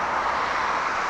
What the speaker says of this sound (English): your DHL, it's a Boeing 757